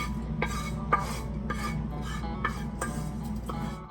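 Food being mixed in a dish in a home kitchen, a rhythmic series of about six scraping, clinking strokes roughly half a second apart over a constant low hum.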